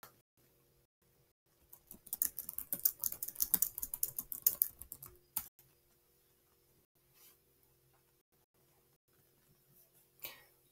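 Keys clatter on a computer keyboard in a quiet room, a quick burst of irregular taps for a few seconds, then near silence broken by a single stray tap later.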